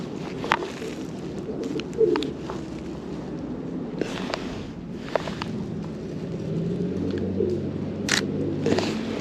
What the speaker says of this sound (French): j'ai repéré ici encore des pigeons